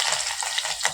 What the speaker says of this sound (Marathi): बटाटा तेलामध्ये आपल्याला छान परतवून घ्यायचा